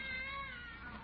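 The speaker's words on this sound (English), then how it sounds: "Seems I can still hear that darn cat." A short, muffled cat meow on an old-time radio comedy broadcast, heard alone at a faint level.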